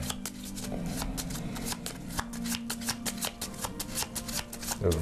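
A deck of tarot cards is shuffled and then cut by hand, giving a steady run of close, crisp riffling slaps with a low hum underneath and no talking.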